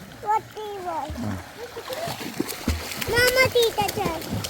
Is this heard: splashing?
yes